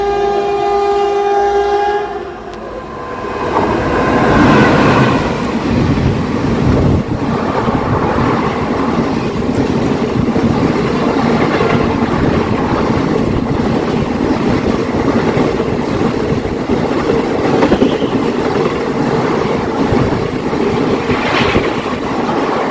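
Unreserved passenger train running on rails between Kanhangad and Mangaluru Central, a steady loud rumble and clatter throughout with a horn-like tonal blast at the start before the rolling noise takes over.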